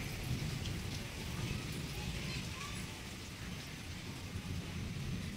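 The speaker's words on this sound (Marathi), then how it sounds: "खूपच पाऊस आहे." Heavy rain pours steadily on a surface in a dense, continuous wash, with faint low rumbles that could be distant thunder, all at an even loudness with no voices.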